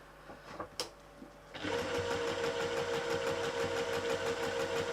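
A sewing machine stitches the bottom seam of a handmade bag, running in a steady, fast, rhythmic whir after a few soft handling clicks, close and loud with no talking.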